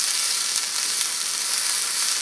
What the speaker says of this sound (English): I'm just going to slightly saute these